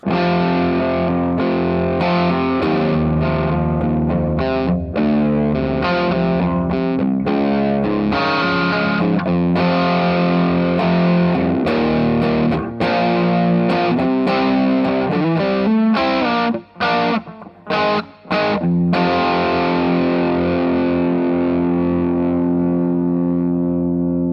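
Overdriven electric guitar, a Suhr Standard tuned to C standard played through a drive pedal, chugs and rings out rock chords and riffs, loud and continuous, with a couple of brief stops before the final chord sustains.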